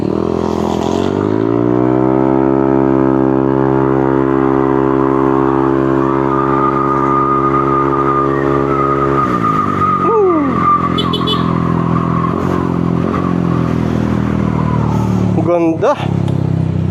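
A Yamaha Aerox V2 scooter fitted with a new exhaust pipe idles loudly and steadily up close, then blips its throttle in a few sharp revs that rise and fall, with a voice talking over it.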